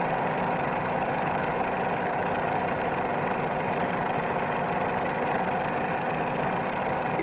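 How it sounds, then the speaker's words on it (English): A 1945-era light aircraft engine labouring in a nose-high climb: a steady, droning engine hum with a grainy vibration, constant in level throughout, heard alone without speech. "Pull the nose up too high, you can hear the engine begin to labor."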